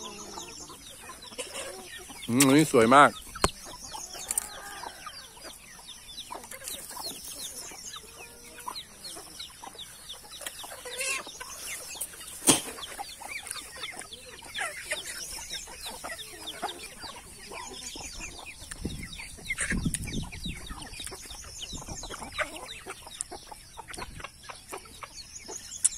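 Village chickens cluck and call in a backyard coop on a morning, with a few louder bursts among steady busy clucking; a duck is nearby and someone speaks briefly.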